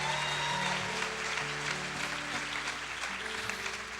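A church congregation applauding a youth orchestra, dense sustained clapping that fills the room evenly, with a low tonal hum underneath and no talking.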